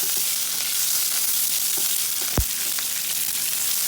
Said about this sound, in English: Now I'm adding up this drumstick, and I will be cooking for just sauteing for the 5 minutes.